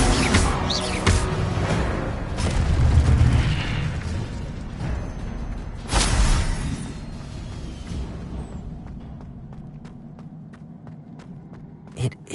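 An Incendio fire spell goes off in a Harry Potter video game, with no voices. A whooshing fiery burst and pops sit over a busy game background, a second sharp blast follows midway, and the sound then thins to a quieter tail.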